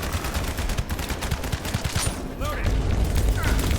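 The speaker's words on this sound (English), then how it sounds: "Is there something else in here shooting?" Rapid automatic gunfire in the video game The First Descendant, dense bursts of shots throughout with a voice talking over them and a few synthetic chirps.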